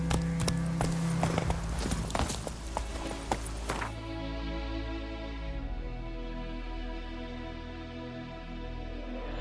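The horse Roach from The Witcher 3 trots with steady clip-clop hoofbeats that run loud for about four seconds, then stop, leaving a sustained musical tone underneath.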